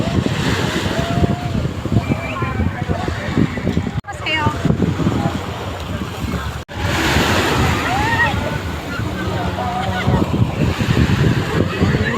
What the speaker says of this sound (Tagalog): Sarap malakas ang alon.